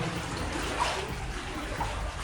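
Water runs steadily through an old mine adit, a continuous splashing rush that echoes faintly in the tunnel, alone and at moderate level.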